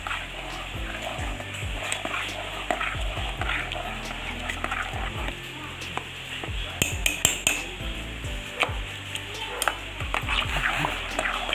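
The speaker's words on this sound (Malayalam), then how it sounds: "നന്നായിട്ടൊന്ന് ഇളക്കി കൊടുക്കാം" A spoon stirs a Karkidakam special recipe in a pot after coconut milk is poured in, giving steady close scraping and clinking against the metal over a faint sizzle, with no talking.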